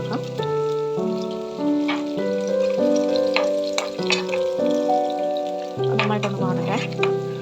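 Chopped shallots and green chilies sizzle and crackle in a hot pan, with a steady, close frying hiss and occasional stirring beneath louder background music.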